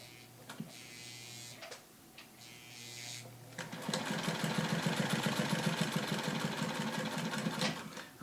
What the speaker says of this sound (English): So I'll sew once, twice, back stitch it, and go forward.